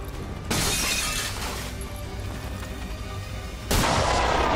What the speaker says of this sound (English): So, I'm gonna take the pistol shot.